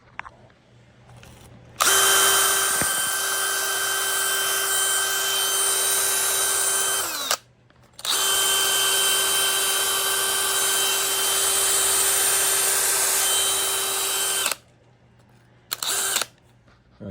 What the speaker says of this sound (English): we're just going to go ahead and hit this with the wire wheel